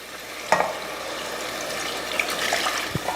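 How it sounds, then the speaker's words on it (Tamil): Water poured into a pan of sizzling fried masala for chicken salna, giving a steady hiss and splashing with a couple of sharp clinks near the start and end. "மசால் போட்டு இதை நல்லா வதக்கியாச்சு இந்த டைமில் நம்ம தண்ணி சேர்த்துருவோம்"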